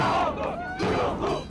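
A large, enthusiastic crowd of Mousavi supporters in Iran chants loudly in unison, a dense roar of many voices rising and falling in rhythmic waves.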